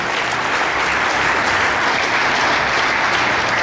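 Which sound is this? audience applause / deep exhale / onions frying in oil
audience applause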